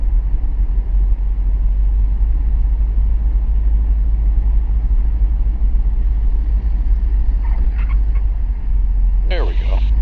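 Steady low engine drone inside the cabin of a small airplane during a wheel landing at Oskaloosa, Iowa, loud and continuous, with a couple of brief higher chirps near the end and talk over it.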